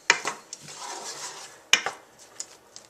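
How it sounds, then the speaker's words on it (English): Onions cooking in oil over medium heat get stirred in a pan, giving a few sharp utensil scrapes and clinks against the metal with quieter rubbing between them. "Just going to stir it up to distribute the oil"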